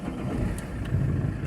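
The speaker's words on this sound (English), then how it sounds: "And now I'm going to try and start the car." A Vauxhall Zafira with CAN bus faults catches and runs, a low engine rumble with brief clicks rising slightly in the second half, heard close and without speech.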